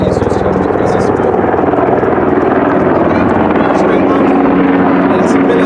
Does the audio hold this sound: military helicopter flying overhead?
yes